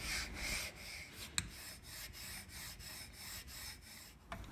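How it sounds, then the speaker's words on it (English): Chisel or plane blade being honed on a sharpening stone, a steady rhythmic rubbing and scraping with regular back-and-forth strokes, close and moderately quiet, with no talking. "Sharpen your blade conventionally by progressively working from coarse to fine stones."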